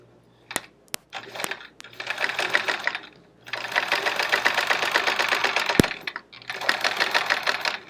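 A quilting sewing machine fitted with a Westalee decorative thread ruler foot stitches a tiny zigzag in free-motion style. It runs in three rapid whirring bursts separated by pauses, with a few sharp clicks between them, close and clear.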